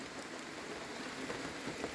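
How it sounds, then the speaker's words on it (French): Rain patters steadily on a camper van, a dense, even hiss of drops on the roof with faint irregular taps, continuous and fairly quiet with no voices. "Journée sous la pluie une nouvelle fois."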